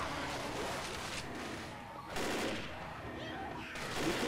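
Gunfire in Left 4 Dead comes as dense, rapid bursts of shots at moderate loudness that run almost continuously, with a louder burst midway and another near the end.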